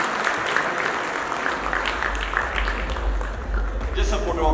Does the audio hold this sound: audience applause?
yes